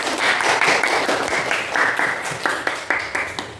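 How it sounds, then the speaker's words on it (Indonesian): Classroom applause from students during a lesson, a few seconds of brisk, fairly close clapping with uneven rhythm and no talk over it. "tepuk tangan"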